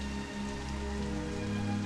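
Steady rain falling without a break, a dense even wash of drops heard at an unchanging level, with a faint low hum underneath.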